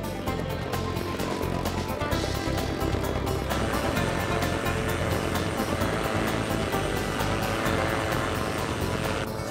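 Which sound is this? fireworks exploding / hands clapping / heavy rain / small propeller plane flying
small propeller plane flying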